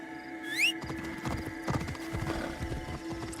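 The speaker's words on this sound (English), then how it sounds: "There is a horse." In the video game Assassin's Creed Shadows, a horse gives a brief high whinny, then its hooves clip-clop in a steady rhythm close by over a low ambient hum, with no talking.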